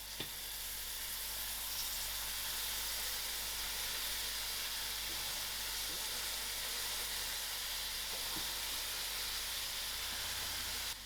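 Gadra tipped into a pan of hot masalas gives a strong, steady sizzling hiss that holds evenly throughout, loud and close, with a faint clink or two from the pan.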